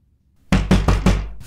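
Hand knocking on a door, four sharp, loud raps in quick succession after a brief silence, close and clear with no voices.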